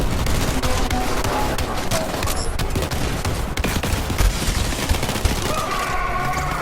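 Rapid, continuous automatic fire from the M4 gun in Borderlands 3, a dense, loud barrage of overlapping shots with sharp cracks running through the whole stretch, with no pauses.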